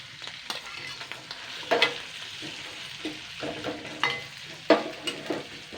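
Ginger and garlic fry gently over a low flame while a spoon scrapes and stirs the pan, so bursts of knocks and clatter rise over a soft, even sizzle, with no voices.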